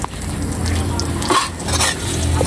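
Eggs with smoked fish being stirred in a hot frying pan, a utensil scraping steadily against the pan over a continuous sizzle, with a brief louder clatter partway through.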